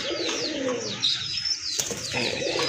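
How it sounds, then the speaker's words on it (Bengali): Native Bengali pigeons of the tiger colour, white with scattered black spots, coo and chirp close by in a continuous, fairly loud flurry, with a brief rustle of wings. "এটা কিন্তু অরিজিনালি দেশি কবুতর টাইগার কালার"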